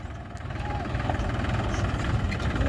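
A JCB backhoe's diesel engine revving up under the accelerator, a low throbbing rumble building in loudness over a few seconds, close by, with faint voices in the background.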